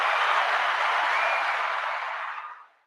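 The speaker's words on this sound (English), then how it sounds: "I'm going to give you a round of applause." A round of applause, a dense, steady wash of many hands clapping that holds evenly for a couple of seconds, then fades away to silence, with no talking over it.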